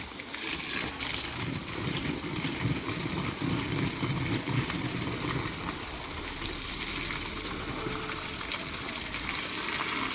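Water gushes steadily from a hose or pipe onto chilli plants for several seconds, a constant rushing flow with a low motor hum underneath.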